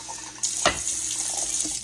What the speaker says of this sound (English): I'm going to put a little bit of water in them, not much.